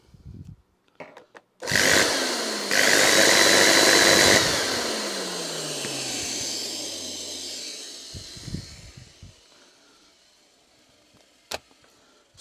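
An Electrolux Contour Chic 1000W vacuum with a shorting motor whines up loudly to a harsh roar for a few seconds, then winds down with a falling tone and a fading hiss, followed by a few faint clicks.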